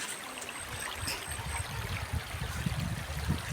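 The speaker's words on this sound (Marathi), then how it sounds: "हे पाटाचं पाण्यासारखं आमचा पर्या वाहतोय" A village stream in Konkan flows steadily past, a soft continuous rushing and trickling of water with faint background noise and no voices.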